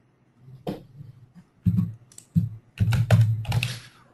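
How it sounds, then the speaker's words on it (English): Typing on a computer keyboard in short bursts of clicking keystrokes, close and clear, separated by brief pauses. "Neil Anderson, if you will type in your BMT username."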